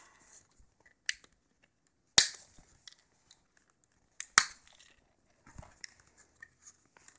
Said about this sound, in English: I'll incrementally snip zip ties